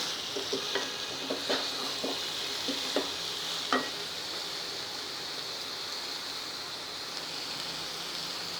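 Shepu (dill) bhaji with dal being stirred in a pan, a soft continuous sizzle with several light spoon scrapes and taps in the first half, then steady hiss alone.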